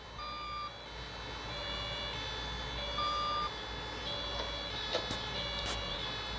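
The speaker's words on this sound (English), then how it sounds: "I hear some sirens." Faint wailing sirens from emergency vehicles in the game Emergency Hamburg drift in the distance over a low steady rumble, with a few brief clicks.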